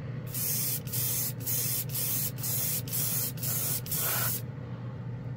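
An airbrush sprays Mr. Color GX paint in a series of about eight loud, close hissing bursts separated by brief gaps, ending abruptly, with a low hum underneath and no talking.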